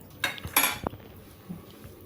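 A masher clanks and knocks against a pot of cooked tomatoes, giving a few sharp metallic hits and a brief scrape in quick succession, close and fairly loud.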